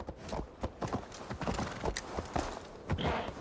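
Horse hooves clip-clop in an uneven rhythm in a medieval open-world action game, fairly close and moderately loud with no speech.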